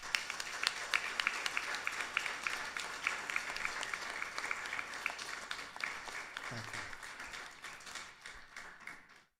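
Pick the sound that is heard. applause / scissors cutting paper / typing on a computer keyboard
applause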